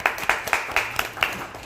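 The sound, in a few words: group clapping hands for encouragement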